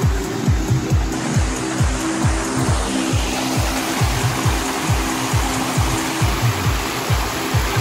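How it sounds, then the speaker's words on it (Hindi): Mountain water tumbles and rushes down into a clear stream near a Rishikesh campsite, a loud steady broadband roar close by with a low rhythmic pulsing underneath throughout. "पहाड़ों से पानी गिर रहा है"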